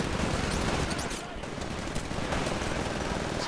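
Shotgun blasts and other weapon fire ring out in the video game Titanfall, a dense, loud, continuous burst of gunfire with no clear gaps, and a player's voice speaks faintly beneath it.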